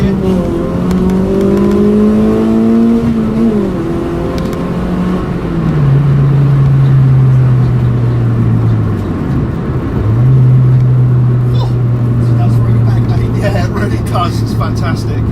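Modified Ford Fiesta ST150 pulling hard in second gear, the engine note rising steadily with a gear change partway through, heard from inside the car while someone talks over it.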